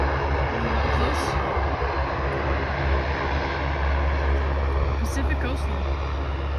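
Pacific Coastal Saab 340 turboprop airliner at Vancouver International Airport, a loud sustained engine roar and propeller drone filling several seconds, with voices talking over it.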